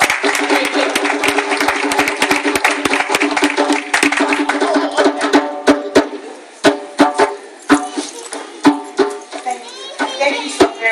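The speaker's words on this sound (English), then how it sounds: "Let's give her a round of applause as she comes up." A round of applause with crowd cheering and children's voices at a live gathering as someone comes up to the front, dense clapping that thins into scattered individual claps toward the end.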